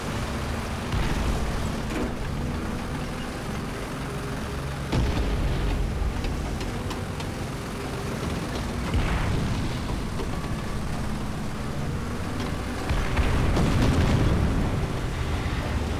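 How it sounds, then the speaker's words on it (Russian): Artillery shells pound a base in War Thunder, a continuous barrage of heavy booms and rumbling blasts rolling one after another, loud and close, with surges of louder impacts near the end. "базу артиллерия накрывает."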